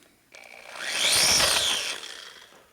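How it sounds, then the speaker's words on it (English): A tool deburrs the top edge of a hole in an aluminum rear brake caliper bracket for a 1991 Harley FXR swingarm, giving a brief whirring, rising-and-falling scrape that swells in the middle and fades, close up. "So just deburr the top of the hole."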